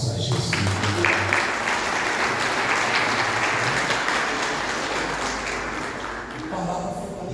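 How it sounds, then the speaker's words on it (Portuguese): A church congregation claps loudly and steadily during a worship service, a sustained wall of applause that fills the room from start to finish, with a voice speaking over it. "Palmas para Jesus."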